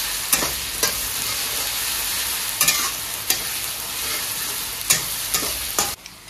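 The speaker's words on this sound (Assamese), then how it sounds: "আমার আদা নহৰুখিনি কি ধুনিয়াকে ভাজি ললো" Ginger-garlic paste frying with browned onions in a pan for mutton curry makes a loud, steady, close sizzle, broken by several brief sharp stirring scrapes and with no talking.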